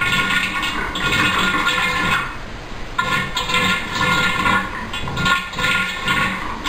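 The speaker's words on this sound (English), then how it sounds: "That's the sound of a vacuum being released and then re-establishing it" A main bathtub drains through household plumbing with a rushing, gurgling flow that pauses briefly and resumes as a vacuum releases and re-establishes in the pipes, close and fairly loud.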